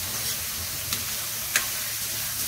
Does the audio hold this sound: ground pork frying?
yes